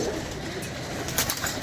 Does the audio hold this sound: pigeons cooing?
yes